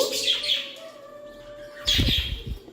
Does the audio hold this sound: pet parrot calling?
yes